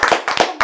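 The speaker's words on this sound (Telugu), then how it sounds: "క్లాప్స్ కొట్టండి రా" Children at an interview clap on cue in three short, close bursts of quick hand claps, with brief gaps between them.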